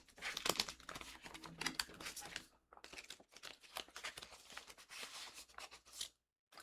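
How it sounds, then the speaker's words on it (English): Paper being cut into small bunny shapes for a handmade swing card, with a run of close, dry crinkling snips and rustles, a short pause, then more cutting and handling of paper. "I'm going to cut these out and I'll be right back."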